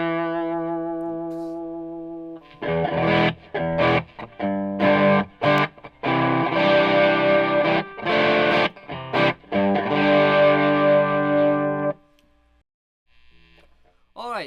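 An electric guitar runs through a VHT V-Drive pedal set to clean boost and gives slightly broken-up chords and notes in bursts, with sustained ringing passages. A quieter tone opens and closes the stretch.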